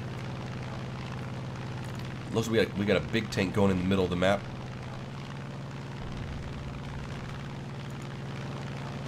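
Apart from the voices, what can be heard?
aircraft engine of a plane in War Thunder video game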